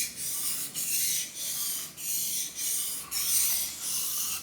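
A jointer blade is sharpened by hand on an abrasive, giving a rhythmic rasping scrape in about six even back-and-forth strokes with short gaps between them, close and steady with no talking.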